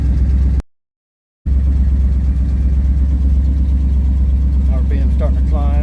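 A hot rod engine idles steadily while warming up from a cold start, a loud, constant low rumble with a brief dropout near the start and a few faint voices toward the end.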